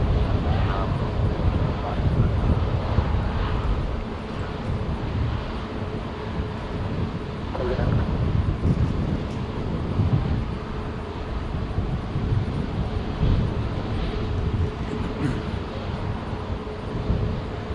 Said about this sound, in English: Delta Flight 870 from Seattle, Airbus A220 is just about to land.